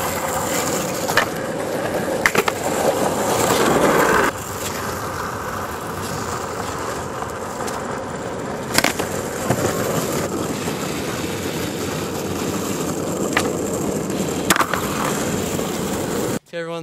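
A skateboard rolling continuously with the wheels rumbling steadily as a rider performs a guillotine trick, with board clacks at intervals and a louder knock near the end.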